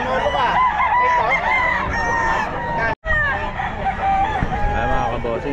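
Sweater dome gamefowl rooster, about ten months old, crowing loudly at a busy Bocaue pet market, a long strained call with a brief gap midway and faint market noise beneath.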